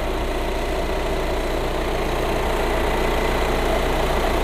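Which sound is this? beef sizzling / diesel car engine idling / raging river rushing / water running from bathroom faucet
diesel car engine idling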